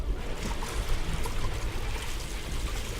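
Water flows steadily on both sides in a water purification plant in Deus Ex: Mankind Divided, a broad, continuous rushing wash with no talk.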